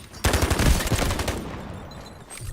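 Rapid automatic gunfire from a weapon in the Delta Force video game, a loud dense burst of shots lasting about a second, then trailing echo and faint ambience.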